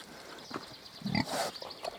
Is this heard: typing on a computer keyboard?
no